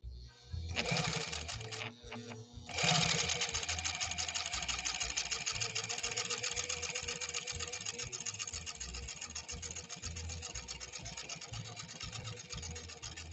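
A Pfaff 130-6 and a Singer 201-2 sewing machine run fast, side by side. After a brief start and stop, the needles settle into a rapid, continuous mechanical chatter that stays steady and close for the rest of the stretch.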